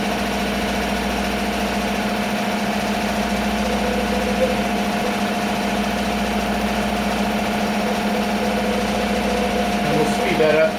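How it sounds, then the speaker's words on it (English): A Happy HCD2 single-head embroidery machine stitches a ballcap at maximum speed, a steady loud mechanical hum and rapid rhythmic clatter held without break, with faint talk in the background. "you can see how comfortably the machine operates even at maximum sewing speed"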